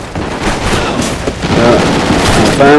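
Dense, loud gunfire from a gun in a video game rattles continuously in close bursts, with shots and booms overlapping throughout.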